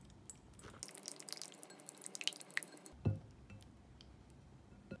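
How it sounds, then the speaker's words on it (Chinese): Sugar syrup is stirred with a little alkaline lye water in a bowl for mooncake dough, giving faint, sticky squishing and dripping sounds, close and quiet with no talk. "90克的糖浆，加入碱水，5克的碱水，现在给它搅拌均匀。"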